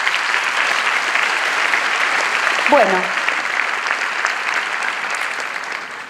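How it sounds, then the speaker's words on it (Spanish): Sustained applause from an audience at a 25th-anniversary round-table event in Rosario, a dense, steady wash of clapping across the whole stretch, with a brief spoken word near the start. "un aplauso para todos ustedes"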